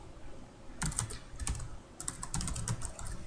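Quiet keystrokes on a computer keyboard come in two short bursts of quick clicks separated by a brief pause, close and soft with no speech.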